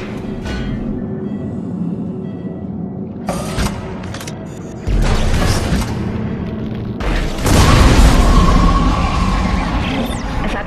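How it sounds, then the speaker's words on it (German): A nitrogen trichloride tank explodes in the Dead Space 2 game amid mechanical creaks and clanks, with heavy booming bursts swelling in loudness toward the end. "Stickstofftrichlorid. Die explodieren, wenn sie zu heiß werden."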